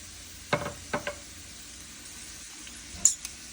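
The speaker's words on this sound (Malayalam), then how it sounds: "ഇനി ലോ ഫ്ലെയിമേ വെച്ച് വേണം നമ്മൾ ഇതിനെ കുറച്ചും കൂടെ ഒന്ന് മുരിയിപ്പിച്ചെടുക്കാൻ" Shrimp (chemmeen) fry on a low flame with a faint, steady background sizzle, broken by a few sharp scrapes and taps of a spoon stirring in the pan. No one speaks.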